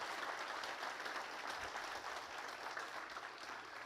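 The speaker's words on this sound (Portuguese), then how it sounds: "dá uma salva de palmas para Jesus" A church congregation claps for Jesus during a sermon, a continuous crowd of hands heard faint and distant, steady throughout with no talking.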